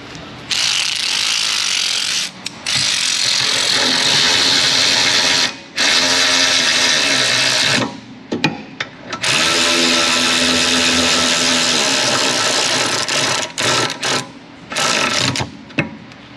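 Power ratchet running down brake caliper bolts on a 2015 VW Jetta during a brake job, loud rapid buzzing bursts of several seconds each separated by short pauses, close up.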